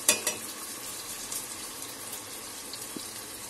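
Tomatoes and onions fry in a pan with a steady, hissing sizzle, close and moderately loud, and a few light clicks of stirring near the start.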